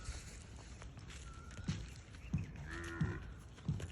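A Khillar cow moos nearby in a drawn-out low call, with a few thudding hoof steps around it.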